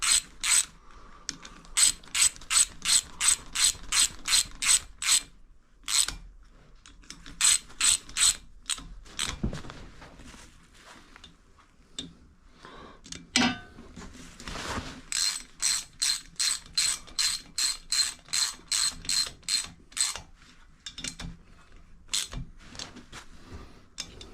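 A ratchet wrench clicks in rapid repeated bursts while tightening bolts on a motorbike gasket. The close, crisp pawl clicks come in several runs separated by short pauses and a few clanks. No voices are heard.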